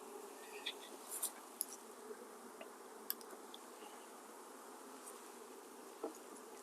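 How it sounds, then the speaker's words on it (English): Honey bees buzz softly around an open 8-frame hive while nucs are installed outdoors, a faint steady hum with a few individual bees passing close. "I'm surprised at how calm these bees are."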